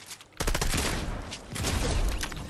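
Rapid bursts of gunfire sound in a Fortnite match: dense, loud volleys of shots crackle almost continuously after a brief quiet start, with no one talking.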